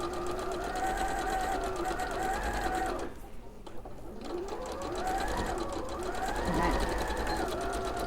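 A sewing machine stitching the gusset of a spring sheep project runs at a steady, whirring speed, pauses briefly midway, then picks back up, with a voice talking in the background.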